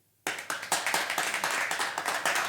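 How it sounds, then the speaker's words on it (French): Lively applause from a TV comedy show audience bursts in after a brief silence and continues steadily, dense clapping with rhythmic surges. "allez-y, applaudissez."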